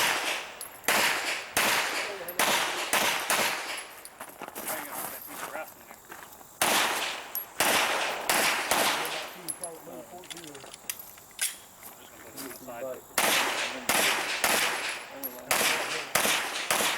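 Pistol shots at an IDPA match at an outdoor range, sharp cracks fired in quick strings of several rounds with short pauses between groups, near and loud, with faint talk in the background.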